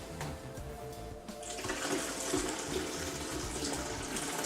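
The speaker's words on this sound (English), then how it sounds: "I'm gonna go ahead and dump the chemicals back into the" Used black-and-white film developing chemicals poured from a tank back into a bucket, a close, loud splashing gush that starts after a brief pause and keeps flowing steadily to the end.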